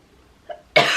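A single sharp cough bursts out loud and close, preceded by a brief faint throat sound, with no talking around it.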